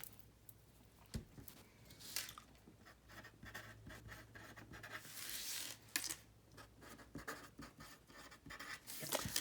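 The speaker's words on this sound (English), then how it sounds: "let me just write down a very few things" Pen writing in a paper planner, soft scratching strokes and rubbing on the page in irregular bursts, close and quiet.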